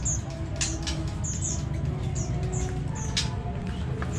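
A white-rumped shama, also called murai batu, gives short, repeated high chirps and whistles over loud, dense background chatter and noise at a bird-keeping gathering.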